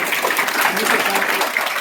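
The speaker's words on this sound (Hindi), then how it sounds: "जोरदार तालियों से उनका स्वागत" A crowd applauds at a school function for students, with a brief burst of steady, dense clapping and speech mixed in.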